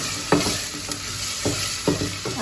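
Spinach sizzles in a pan over low heat for a lentil dhal, with a steady soft frying hiss broken by a few scraping stirs of a spoon at irregular intervals, close and clear without talk.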